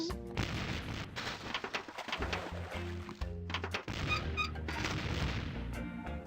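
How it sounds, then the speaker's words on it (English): Cannon fire in the video game Curse of Monkey Island, a run of loud booming shots and thuds mixed with game music and effects, dense and continuous throughout. "it's one of those new self-loading cannons I've heard so much about"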